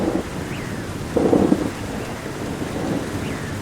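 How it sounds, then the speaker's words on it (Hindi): Steady rain pattering with a low rumble of thunder swelling briefly in the middle, wind noise underneath throughout. "थोड़ी ही देर में जंगल में बारिश शुरू हो जाती है।"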